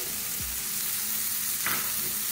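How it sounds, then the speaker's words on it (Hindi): Grated carrot, cabbage and capsicum frying in a pan for vegetable kebabs, giving a steady close sizzle with a couple of brief stirring scrapes, no voices. "वेजिटेबल को हमें 2 से 3 मिनट के लिए फ्राई करना है, ताकि इनका कच्चापन खत्म हो सके।"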